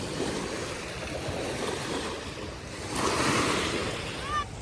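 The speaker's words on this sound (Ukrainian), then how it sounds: "хвилі." Sea waves washing in a continuous rolling rush, swelling and easing with a louder surge near the end, buffeted by some wind noise, with no talking.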